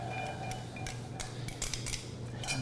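Onions tossed into a hot pan give a continuous crackling sizzle with scattered sharp ticks and clicks of utensils against the pan, fairly close and steady, with no voices.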